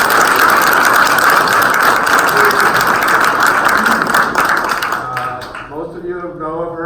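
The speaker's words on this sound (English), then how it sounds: "let's give her a big round of applause" Audience applause at an LGBT community forum, dense and steady for about five seconds, then thinning out as a voice begins speaking near the end.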